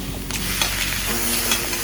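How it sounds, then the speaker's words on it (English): Steady sizzling and hissing of bok choy stir frying in a hot pan, with occasional scraping clatter, continuous and close. "continue stir frying and incorporating all those wonderful flavors"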